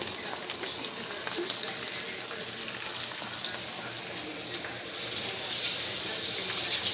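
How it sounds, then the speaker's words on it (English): Beans deep frying and browning in hot oil for refried beans: a dense, steady sizzle and bubbling that runs without a break and swells slightly louder near the end. "we're just letting those brown real good, deep fry real good"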